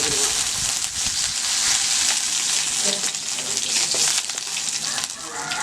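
Curry leaves hit hot oil in a pan for coconut milk rasam, giving a loud, continuous close sizzle and crackle that stays dense and hissing throughout, with no voices.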